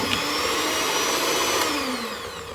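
An electric hand mixer beating cookie dough for Kaastengels at low speed, a steady close motor whine that holds throughout and shifts slightly in pitch, heard alone.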